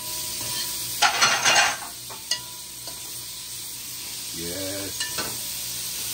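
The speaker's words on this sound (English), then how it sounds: "Now you're gonna let it fry up?" Bush-style tilapia broth frying in a pot: a loud burst of sizzling with stirring scrapes, then a steady quieter crackle and scattered utensil knocks. A voice speaks briefly.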